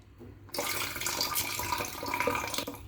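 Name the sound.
washing grapes under running tap water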